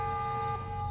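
A steady electronic alarm siren wails in the horror game Revenge of the Colon, a brief, loud, sustained tone with no talking over it.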